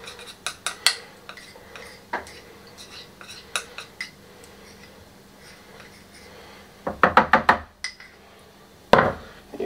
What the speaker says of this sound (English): Use all the white, just spread it out with a spoon.